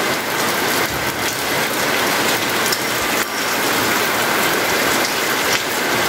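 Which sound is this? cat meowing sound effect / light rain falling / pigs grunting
light rain falling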